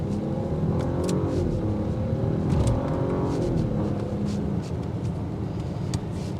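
A 2023 Audi A8 on upgraded wheels accelerating on a test drive, heard from inside as a steady engine hum with rising pitch and road rumble, fairly loud and continuous without talk.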